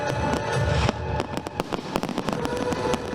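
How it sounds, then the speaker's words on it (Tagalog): Fireworks show at a pyro-musical competition, with a dense barrage of sharp bursts and crackling pops overlapping one another, loud and continuous under a low rumble, with no voices. "daan-daang Pilipino ang dumayo para makanood ng fireworks show"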